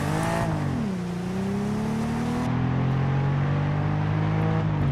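A Datsun 280Z engine drones loudly in a racing video game, revving up with a brief shift dip before settling into a steady, close, sustained tone, with no talking.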